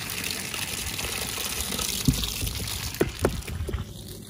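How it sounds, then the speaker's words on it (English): Water pours into an oobleck mixture of cornstarch and water as a steady, moderately loud liquid gush, with a few brief splashy thumps near the end. "I need a little bit more water over here."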